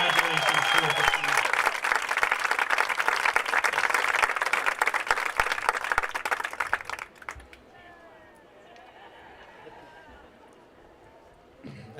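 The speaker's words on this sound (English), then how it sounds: "Can I please have a warm round of applause for the Rhinebeck girls basketball team?" An audience at a varsity sports award ceremony for the Rhinebeck girls basketball team applauds loudly and steadily for about seven seconds, then the clapping stops abruptly and quiet room chatter follows.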